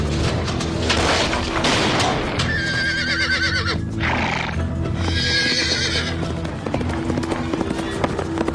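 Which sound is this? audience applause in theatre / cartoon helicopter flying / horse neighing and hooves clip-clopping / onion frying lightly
horse neighing and hooves clip-clopping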